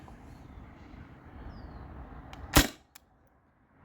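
A modified T4E HDR68 gas pistol running on Grimburg Joule V3 canisters fires a single sharp, loud shot close by over a low hiss, with a faint click following shortly after.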